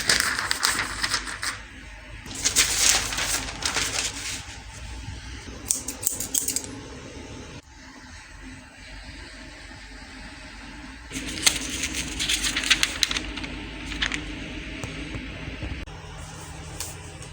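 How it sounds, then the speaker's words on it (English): Pencil tracing over lines on tracing paper for transfer onto a printing block, close scratchy scribbling in bursts separated by quieter pauses. "So you go over the lines that you want to keep and transfer onto the block."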